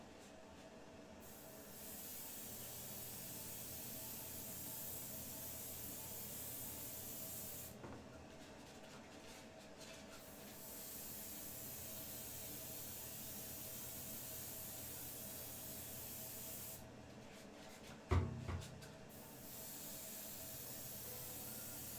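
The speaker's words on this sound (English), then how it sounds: "I pulled out the airbrush today to help a friend of mine who's back in town with a project he was doing" An airbrush sprays paint for a short-film project, giving a steady close hiss that runs nearly the whole time, with one sharp knock near the end.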